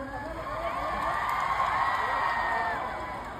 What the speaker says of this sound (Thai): ขอบคุณคุณลุงท่านด้วยเสียงปรบมือดังๆให้กับเพื่อนของผมด้วยครับ